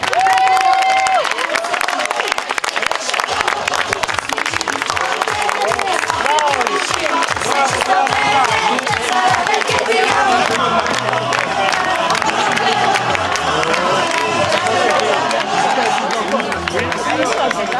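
Wedding guests at the Fortin de Corbières applaud and cheer at a reception entrance, dense clapping mixed with crowd chatter and whoops, loud and close, with voices talking over the sustained applause.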